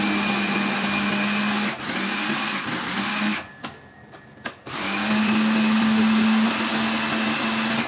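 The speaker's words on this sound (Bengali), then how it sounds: "এখন আমি ব্লেন্ড করে নেব চিকেনেরটা।" An electric blender whirs steadily as it purées a chicken marinade, the motor pitch shifting as the load changes, then pausing briefly before resuming loud and close, with no talking.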